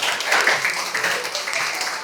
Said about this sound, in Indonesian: Tepuk tangan yang benar.